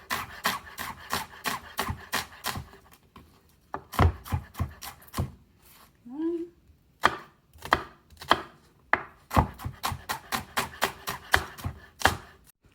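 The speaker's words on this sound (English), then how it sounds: "we have chopped our tomatoes, just crushed the garlic and chopped the shallot" A knife chopping tomatoes, garlic and shallot on a board, rapid bursts of sharp close taps separated by short pauses, with a soft crushing sound midway; no voices.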